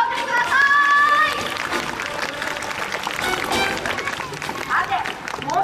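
Audience applause during a Tokyo DisneySea spring show with Mickey and Duffy, a broad, steady wash of clapping from a large outdoor crowd, loudest at the start and continuing under a host's voice and background music.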